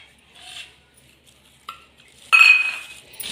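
Sesame seeds and jaggery being stirred together in a pot for a festive filling, with soft scraping and clinking of a utensil against metal that grows louder in the second half.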